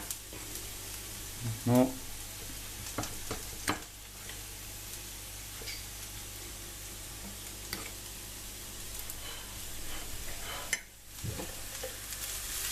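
A spoon stirs potato filling as it fries in a pan for bourak. A soft, steady sizzle runs throughout, with a few louder scraping strokes. A brief word is spoken near the start.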